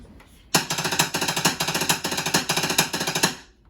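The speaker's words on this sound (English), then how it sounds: "If I wanted to teach tap 5-stroke rolls to somebody at level 3" A snare drummer plays tap five-stroke rolls as part of drumline instruction, producing a rapid, crisp run of close, loud strokes in repeated groups with accented releases, with no voices.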